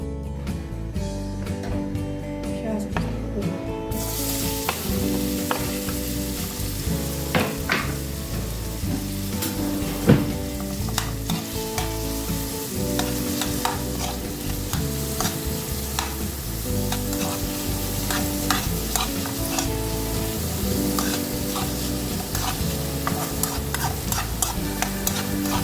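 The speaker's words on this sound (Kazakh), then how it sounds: "сковородкамызға майымызды құйып, жақсылап қыздырып, пиязымызды қызарғанша қуырып аламыз" Onions frying in hot oil in a pan for a Kazakh rolled bread dish, giving a steady continuous sizzle with occasional stirring clicks, loud and close with no voices.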